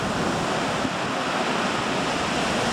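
Sea waves roll onto the beach at Brzeźno, a steady, dense roar of surf that fills the air without letup, with no voices.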